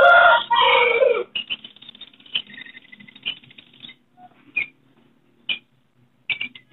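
Red Multani chickens at a bird market cluck and crow in short, sharp bursts scattered through the clip, following a brief loud call at the start.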